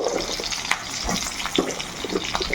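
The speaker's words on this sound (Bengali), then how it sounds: "আর এই পর্যায়ে দিয়ে দেবো এই যে ডুমো ডুমো করে কেটে রেখেছিলাম আলু।" Diced potatoes fry in oil left from hilsa fish, sputtering with a moderate, crackly sizzle broken by scattered sharp pops.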